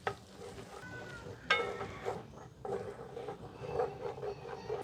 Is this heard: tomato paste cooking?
yes